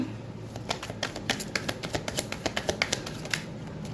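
Tarot cards being shuffled, a quick run of crisp riffling snaps and flutters with an irregular rhythm, close up and fairly soft, with no talking.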